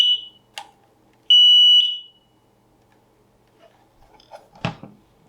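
Two short piercing electronic beeps from a SAFE TECH interlinked smoke alarm confirming its link to the main device, the second held for about half a second, followed by quiet and a few soft handling clicks and a thump.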